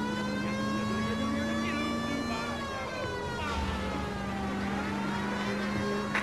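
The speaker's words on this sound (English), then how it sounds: "Did we hit the siren, Phelps?" A police car siren in the video game L.A. Noire keeps up a continuous, steady wail as the car is driven, with a voice talking over it.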